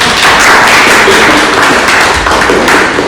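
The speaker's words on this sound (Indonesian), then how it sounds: "Kita kasih tepuk tangan dulu untuk." A student audience gives loud, sustained applause at a debate between candidates for chair and vice chair of an information technology student association, a dense roar of many clapping hands filling the room without pause.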